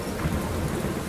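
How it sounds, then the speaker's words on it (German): Rain pours steadily in the Len's Island video game, a dense, constant hiss with a low thundery rumble, loud and without talk. "Bei Regen geht's ja nicht."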